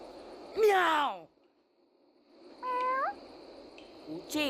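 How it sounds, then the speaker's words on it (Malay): A cat meows twice, a loud drawn-out cry followed after a pause by a shorter, higher mew, with a faint steady whine and brief noises in the background. "Oyen kalau nak miau sekali"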